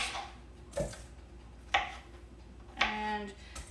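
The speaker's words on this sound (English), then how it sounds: "I will just chop them into quarters." A few separate knife chops on a board as mushrooms are cut into quarters, spaced about a second apart, quiet with a faint background hum.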